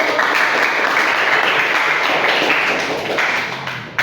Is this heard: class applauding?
yes